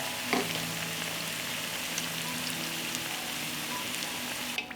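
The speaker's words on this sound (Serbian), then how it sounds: "Nakon 4 minuta prženja okrećemo na drugu stranu i nastavljamo da pržimo." Mekike, fried dough from a grandmother's recipe, sizzle in hot oil in a pan, a dense steady crackling hiss with a brief clatter at the start, close and without speech.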